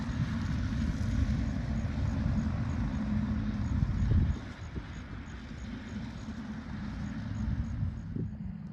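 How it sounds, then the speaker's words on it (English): Tractor pulling a bush hog mower through field growth beside a pond, a steady low engine drone with cutting roar throughout, slightly easing after the midpoint, fairly close and without talk. "So he's down here bush hogging now."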